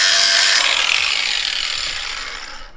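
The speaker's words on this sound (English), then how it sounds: "we took a grinder to the fuel rail bolt" A grinder cutting through a stripped fuel rail bolt, a loud continuous harsh metallic whine, close and sustained, slowly fading toward the end with no talk.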